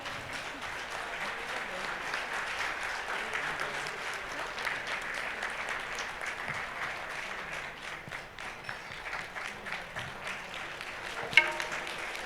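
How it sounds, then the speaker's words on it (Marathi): Steady applause from a crowd after a devotional music performance at the Shree Adishakti Puja at Saptashrungi Gad, sustained and fairly even throughout, with one sharp louder clap near the end. "जोरदार टाळ्या होऊन जाऊ द्यात."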